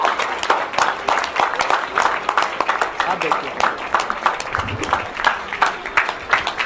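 Rhythmic, sharp clapping from an audience at an annual day celebration honoring a doctor, steady and fairly close, with a voice talking over it throughout.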